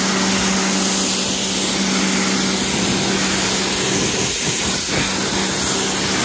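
A pressure washer blasts a steady, loud hiss of water while rinsing a car, spraying continuously with slight shifts in tone as the jet moves into the corners.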